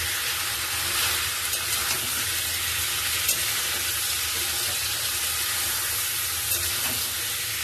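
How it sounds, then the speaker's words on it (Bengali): Spice paste for a tengra fish curry with cauliflower sizzles steadily in oil in a pan, a dense continuous frying hiss with occasional stirring scrapes and no talk. "মশলা কষানো হয়ে গেছে, মশলা দিয়ে তেল ছেড়ে দিয়েছে"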